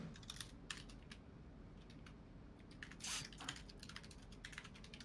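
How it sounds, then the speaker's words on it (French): Computer keyboard typing during a Valorant match, quick irregular clicks and clacks close to the microphone, fairly faint, alone without talking. "Plus fort le clavier encore"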